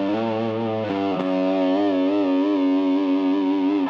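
A heavily distorted electric guitar sustains a thick, fuzzy chord through a Pigtronix Philosopher's Tone pedal, buzzing and saturated, played alone and steady for a few seconds.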